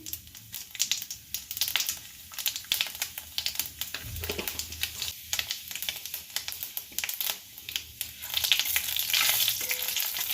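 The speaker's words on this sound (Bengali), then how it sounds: "এই তেলে একটু 5 ফোড়ন দিয়ে দিচ্ছি।" Panch phoron five-spice seeds crackle and sizzle in hot white oil, a busy stream of sharp pops and spits with a steady fry beneath, growing denser toward the end.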